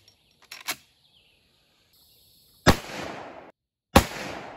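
A .45-70 rifle firing 300-grain bullets lets off two loud, close, sharp reports a little over a second apart, each followed by a short decaying echo, after a couple of fainter clicks and no talking.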